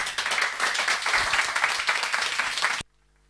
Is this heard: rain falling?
no